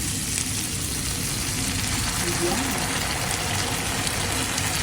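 Garlic, onion and tomato sauté in a pan with loud, dense, continuous sizzling and hissing that runs unbroken from start to finish, close to the ear.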